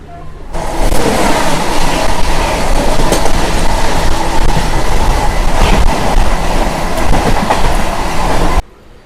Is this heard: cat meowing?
no